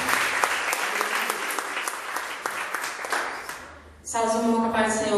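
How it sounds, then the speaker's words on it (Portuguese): Church congregation applauding, a dense, loud wash of clapping for about four seconds that fades out before a voice begins speaking. "Na salva de palmas para Jesus."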